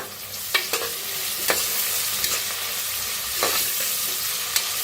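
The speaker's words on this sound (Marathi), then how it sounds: "आता ह्याच्यात टाकूया कढीपत्ता आणि छान असं मिक्स करून घेऊया." Curry leaves stirred into sliced onion and asafoetida frying in a pan for masala rice, with a steady sizzle broken by several sharp scraping clicks of the spoon at irregular intervals.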